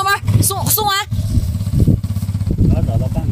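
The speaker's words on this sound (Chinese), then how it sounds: "赶紧松，轰油门，松完。" A motorcycle engine revs and pulls as the clutch is let out on a slight slope during a beginner's riding practice, loud and close, with people talking over it.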